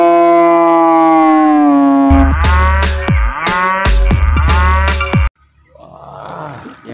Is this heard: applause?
no